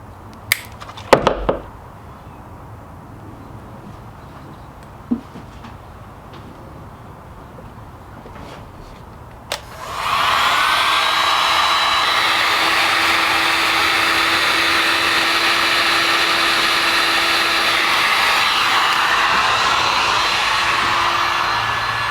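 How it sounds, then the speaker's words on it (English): A heat gun starts with a click after a stretch of quiet handling noises, then blows a loud steady whooshing roar for about twelve seconds while shrinking heat shrink tubing on a wiring harness. "And then last thing we want to do is heat shrink."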